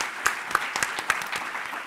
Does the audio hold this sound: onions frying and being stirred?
no